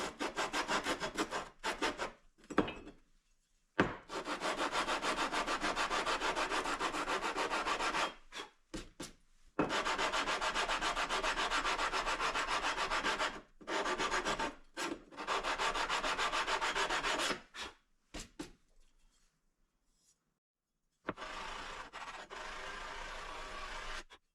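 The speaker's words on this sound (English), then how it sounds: "I just take some sandpaper and stick it to it. And just take that and kind of rub it around on there." A metal engine part from a 1931 Model A pickup is rubbed flat by hand on sandpaper, giving a dense scratchy rasp in long repeated strokes, close and alone, broken by short pauses and a longer silence.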